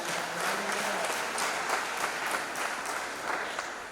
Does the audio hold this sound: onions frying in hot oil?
no